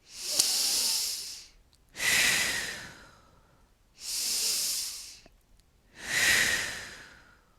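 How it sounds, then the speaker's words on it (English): Four slow, deep breaths during a Five Tibetans exercise routine, each a loud close airy rush about two seconds long separated by short pauses, inhaling through the nose and exhaling through the mouth. "take 3 big breaths in the nose and out the mouth"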